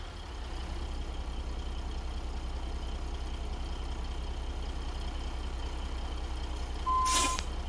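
A simulated semi truck in American Truck Simulator backs a cattle trailer, with a steady, loud low engine rumble throughout and a short burst of air-brake hiss near the end.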